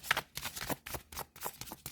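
Tarot cards being shuffled by hand at close range, a steady run of crisp riffling, slapping bursts with brief pauses between, no talking.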